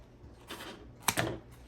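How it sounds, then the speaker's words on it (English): Scissors cutting a thick sheet of craft foam, heard as a few crisp, close snips and rustles with a sharper double cut near the end, no talking. "I'm going to cut this a bit smaller."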